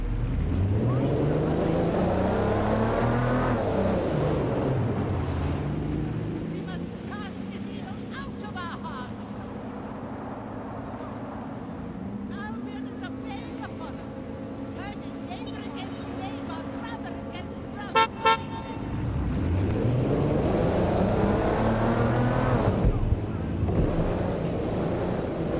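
A car drives in the video game Watch Dogs Legion, with a steady engine hum that swells at the start and end, and a synthetic voice speaks over it.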